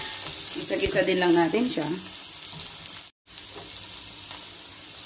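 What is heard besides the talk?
onion sautéing in a pan for ginataang ampalaya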